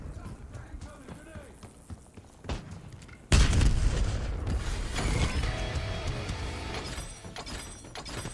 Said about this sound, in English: Concussion grenade out.